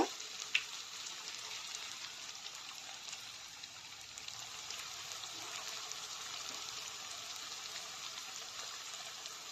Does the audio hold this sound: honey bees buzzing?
no